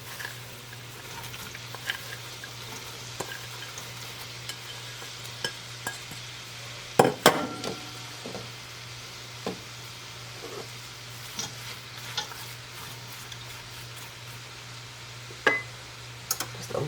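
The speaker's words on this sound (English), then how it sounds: "Then I have 6 yellow onions, thinly sliced. And we're going to just add those to the pot." Six thinly sliced yellow onions cook in melted butter in a pot. A quiet steady sizzle runs underneath, with scattered clinks and scrapes of stirring, close and alone without voices.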